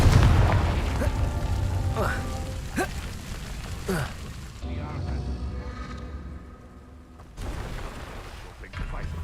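Confringo blasting spells in Hogwarts Legacy go off as a string of heavy booms and crackling bursts, loud and close, with a rumbling tail under a light rain-like patter and a voice speaking.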